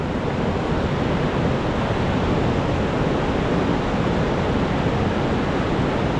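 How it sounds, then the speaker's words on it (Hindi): A fast-flowing river rushes loudly and continuously in Aru Valley, a dense, unbroken roar close by with no voices. "तो ये बॉस बह रही है जोर की नदी।"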